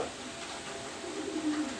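Soft, low cooing of a pair of racer pigeons rises near the end over a faint steady background hum; quiet and fairly close.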